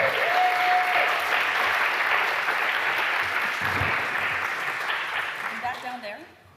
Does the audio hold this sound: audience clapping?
yes